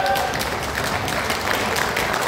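An audience at a business event in Almaty, Kazakhstan, claps in a thick, continuous burst of applause that stays loud and even throughout, with some voices underneath.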